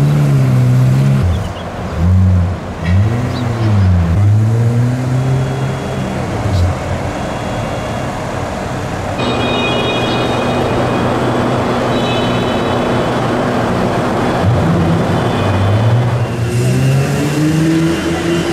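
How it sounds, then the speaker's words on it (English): Pagani Zonda supercar engine rumbling and revving as it drives up a ramp at Dubai Airport, a steady close mid-range drone with rising surges, with people talking over it. "the last thing I thought I'd be doing is driving up a ramp at Dubai Airport"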